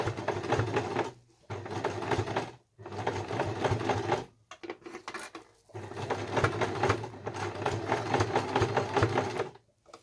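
A sewing machine zigzag-stitches the edge of a fabric oven mitt, running in close, steady bursts of rapid needle chatter separated by short pauses.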